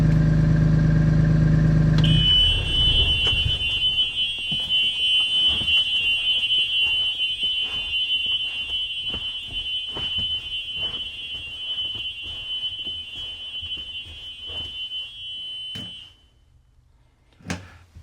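A school bus child reminder alarm gives a loud continuous high electronic tone for about fourteen seconds over the rumble of an idling bus engine, then stops, leaving quiet clicks and a final thump.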